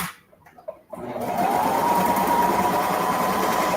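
A sewing machine stitches the second shoulder seam of a ruffle dress, starting after a brief quiet handling moment and then running steadily with a close, even mechanical whir.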